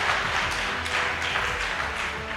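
A church congregation at a sermon bursting into steady applause, many hands clapping in a dense, even patter that stays loud and close for the whole stretch, without any voices standing out.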